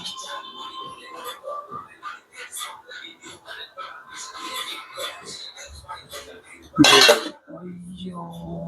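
Steel plates and utensils clink and scrape in a home kitchen while tempering is prepared, with scattered light taps, a loud sharp clatter of a plate near the end, and voices talking quietly throughout.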